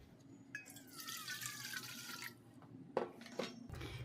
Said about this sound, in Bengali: এই জলটা ফেলে আসবো, আবার একটু ফ্রেশ জল নেব।